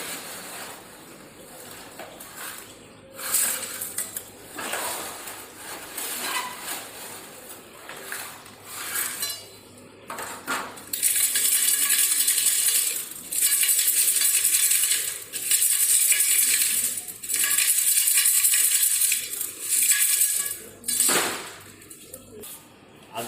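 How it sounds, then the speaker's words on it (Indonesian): Coarse aggregate stones, retained on a No. 4 sieve, tipped into a soaking bucket for a specific gravity and absorption test, giving loud bright rattling and clattering pours in long bursts, close to the microphone, with no voices. "Untuk agregat yang bertahan saringan 4, kita masukkan ke dalam ember perendaman."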